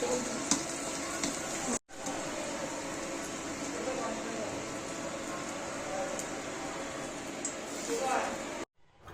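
Garlic cloves fry in hot oil for a Bangladeshi dried-fish bharta, making a steady close sizzle with occasional stirring scrapes, broken by two brief dropouts, with a voice talking over it.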